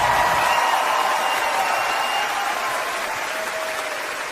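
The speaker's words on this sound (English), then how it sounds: "a round of applause for Bill" A comedy-show audience applauds comedian Bill Burr, dense sustained clapping from a large crowd that stays loud throughout and eases slightly toward the end, with no talking over it.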